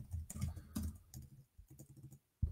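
Fingers tap on a computer keyboard in quick irregular bursts of clicks with short pauses, close and quiet, with no speech.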